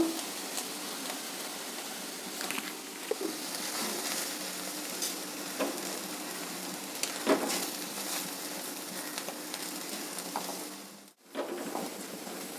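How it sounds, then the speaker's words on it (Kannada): Ingredients frying in a pan until crunchy for a healthy dosa, a continuous close sizzle with stirring scrapes throughout, briefly dipping near the end before resuming. "ತಿನ್ನೋದಕ್ಕೆ ಚೆನ್ನಾಗಿ ಕ್ರಂಚಿಯಾಗಿ ಎಷ್ಟು ಬೇಕೋ ಅಷ್ಟು ಕ್ರಂಚಿಯಾಗಿರೋವಷ್ಟು ಫ್ರೈ ಮಾಡಬೇಕು"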